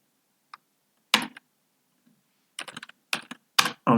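Close computer keyboard typing: a single tap, then a short cluster, a pause, then several quick bursts of keystrokes.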